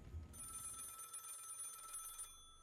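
Telephone ringing in the horror video game Maid of Sker, a faint, continuous electronic bell tone that cuts off abruptly, heard alone.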